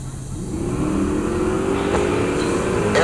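A drag racing Chevelle in the 11-0 streetcar class at Heartland Park Topeka roars loudly, its engine pitch climbing steadily as it accelerates down the strip.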